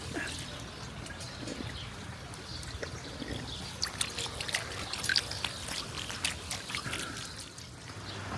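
Water trickling and splashing from a public drinking fountain in Lorca, Murcia, Spain, a faint irregular dribble under outdoor ambience with a few brief clinks.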